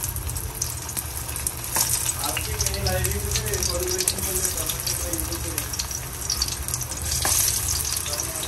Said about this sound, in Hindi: तो अब इसमें डालेंगे ये जो लौकी हमने कट किया है शैलो फ्राई के लिए